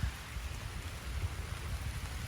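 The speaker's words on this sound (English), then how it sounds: "But not like I would be if I was out there in the rain." Rain falls outdoors among trees, a soft steady patter and hiss heard quietly from a sheltered spot, with no voices.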